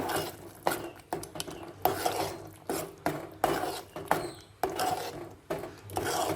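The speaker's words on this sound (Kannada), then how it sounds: "ಅರಿಶಿನ ಖಾರದ ಪುಡಿ ಎಲ್ಲದನ್ನು ಚೆನ್ನಾಗಿ ಮಿಕ್ಸ್ ಮಾಡ್ಕೊಳ್ಳೋಣ" Spoon scraping and stirring in a pan as turmeric and chilli powder are mixed into chana masala with curry leaves, tomato and onion, giving repeated close scraping strokes in an irregular rhythm, with no talk.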